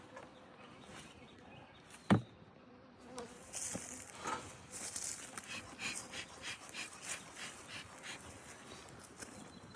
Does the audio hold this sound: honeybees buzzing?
yes